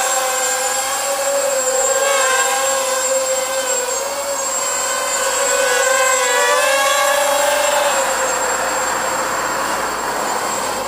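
An Eachine Assassin 180 V2 racing drone flies with a continuous high whine whose pitch wavers up and down as the motors throttle, steady and fairly loud throughout.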